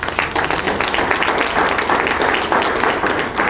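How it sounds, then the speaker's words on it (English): A room at a Mt Zion press conference breaks into a round of applause, steady close clapping from many hands that stays loud and even for several seconds with no voice over it. "So I want to give you another round of applause for inspiring us"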